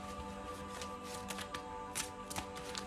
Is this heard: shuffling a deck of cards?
yes